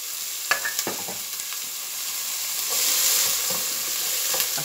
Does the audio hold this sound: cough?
no